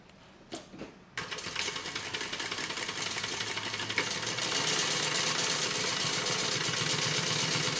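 Sewing machine running steadily as it stitches the upper linings of a handbag, a brief start-stop at first, then a continuous close mechanical whir with no talking.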